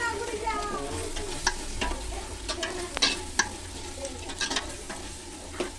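Mushroom and pea palav sizzles and crackles steadily in a hot pan while being stirred, with small pops and scraping spoon clicks scattered throughout at close range.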